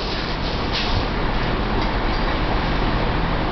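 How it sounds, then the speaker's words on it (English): Ipswich Station ambience carries a loud, continuous rumble of a train moving through, with steady broadband wheel and rail noise filling the whole stretch and no voices standing out. "Taking the people on a tour of Ipswich Station."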